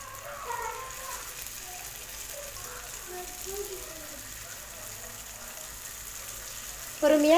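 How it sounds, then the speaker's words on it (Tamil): Pieces of elephant foot yam fry in hot oil in a pan, giving a soft, steady sizzle and crackle at moderate distance, and a brief louder sound comes in at the very end. "எண்ணெய் சூடானதுமே ஒவ்வொரு கிழங்காக தூக்கி போட்டுடலாம்."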